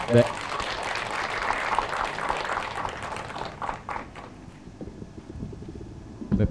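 Dense applause fills the room at an anti-Japanese-history talk concert, a busy clatter of many hands for a few seconds that then thins into scattered claps under a speaking voice.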